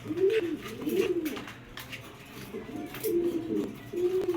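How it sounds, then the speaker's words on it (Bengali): Racer pigeons coo softly in repeated rolling phrases, several calls close by from a male bird with brief pauses between them. "এইটা হচ্ছে একটা নর কবুতর"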